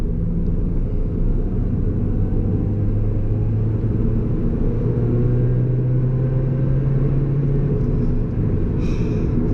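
Steady engine drone and road rumble inside a supercharged Toyota Yaris GRMN hot hatch while driving, a constant loud low hum with a slowly rising tone and no talking.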